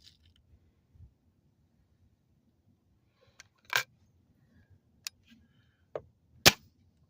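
A Weihrauch spring air rifle fires a few sharp, faint cracks spaced a second or so apart over a low steady background hum, each shot brief and clipped, with no voices.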